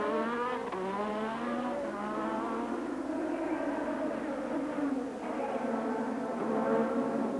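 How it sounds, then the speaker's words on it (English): A 1987 Formula 1 car at the Monaco Grand Prix in Monte-Carlo leaves the pit with its rear tyres spinning, the engine screaming loud and steady, rising and falling in pitch with tyre noise throughout. "Piquet smokes his way out of the pit, lighting up those rear tyres,"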